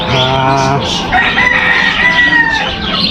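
Rooster crowing with a long drawn-out call at a small backyard chicken farm, followed by hens clucking and fowl calls close by; loud and continuous throughout.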